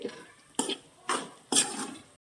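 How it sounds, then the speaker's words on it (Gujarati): A spoon stirs spiced kantola (spiny gourd) vegetable with turmeric and salt in a pan, three distinct scraping strokes against the metal over a faint background, close and alone before the sound cuts off. "હવે બધું છે ને આપણે સરખાએ મિક્સ કરી લઈએ."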